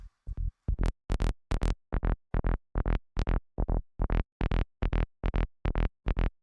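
Repeated short synth bass notes from a U-He Diva synthesizer in a steady psytrance rhythm, slightly wavering in pitch with analog drift, with a crunchy, distorted attack at the front of each note.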